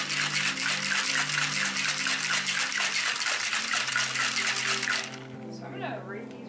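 Ice rattles inside a cocktail shaker in fast, regular strokes for about five seconds, then stops abruptly. Voices talk under and after the shaking.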